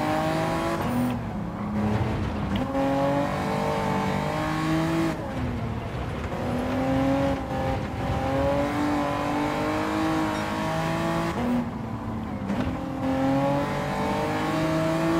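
A turbocharged GTO sports car races in Gran Turismo 7, its engine droning and rising through the gears with brief drops at each shift, loud and steady from on board, with no talking.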